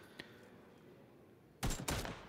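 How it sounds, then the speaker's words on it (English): Gunfire crackles in a competitive video game match, a faint distant shot early, then two close, loud bursts of rapid shots near the end. "They've heard the gunshots going off."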